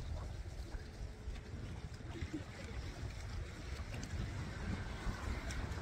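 Wind blowing across Guntersville Lake beside a fishing boat, a steady low rumble and buffeting roar with faint water movement, continuous and fairly quiet, a voice briefly audible.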